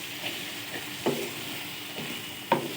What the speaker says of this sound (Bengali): মশলা কষা হয়ে গেলে এবার আমি চিংড়ি দিয়ে দিব। এবার চিংড়িগুলা ভালো করে মশলার সাথে মিক্স করে নিব।